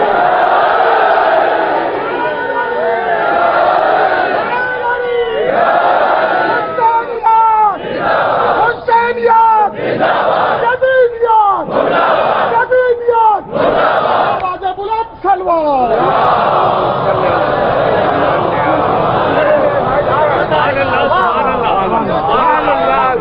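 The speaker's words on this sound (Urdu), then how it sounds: "دونوں ہاتھ فضا میں بلند کر کے پوری طاقت سے نعرہ حیدری" Large gathering at a Lahore majlis for the martyrdom of Imam Ali roars the Nara-e-Haidari slogan, repeated bursts of loud massed shouting with raised voices swelling and falling, then continuing crowd clamor.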